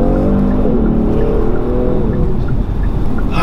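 A 2020 Genesis G70 Sport RWD with the 3.3-litre twin-turbo engine sounds as a steady, loud engine drone with rising tonal lines and road and tyre roar while it moves past another car.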